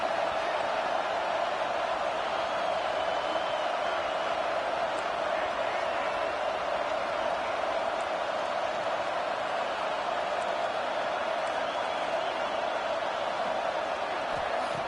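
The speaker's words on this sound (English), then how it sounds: "this crowd coming to life here, trying to help the defense get a stop with the offense pinned back" A football stadium crowd roars steadily during a college game, a dense, constant wall of cheering and noise that holds at an even level throughout without clear peaks.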